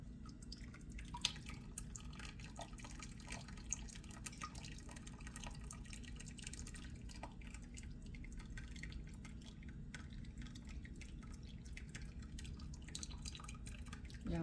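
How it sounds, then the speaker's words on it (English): Hot cream of tomato soup drips and trickles steadily through a strainer, a continuous liquid patter over a low background hum with no pauses. "we're straining it now"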